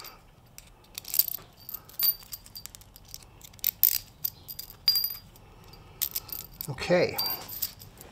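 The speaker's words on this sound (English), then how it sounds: "we're gonna take these washers, get them set now" Metal washers for a DIY Jeep Wrangler door hanger are handled and clink in irregular bright jingles and chinks close by, with someone speaking briefly partway through.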